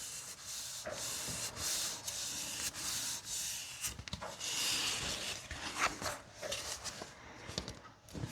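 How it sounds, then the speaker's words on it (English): Card stock being rubbed from the back, with dry scratchy swishes in uneven strokes and a few soft taps, close up and fairly quiet, with no talking. "rub it from the back"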